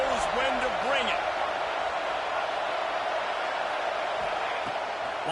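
Steady stadium crowd roar from the College Football 26 video game, a dense continuous wash of cheering that fills the whole stretch at high level, with a commentator's voice speaking over it.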